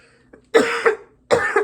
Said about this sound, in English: oh boy, I felt that cough coming.